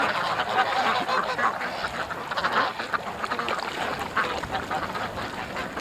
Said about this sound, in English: Silly little ducks.